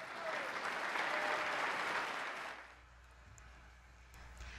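Applause following a State of the State address in New York, a dense crowd clapping for about two and a half seconds before dying away into quiet room tone, heard faintly as from a distance.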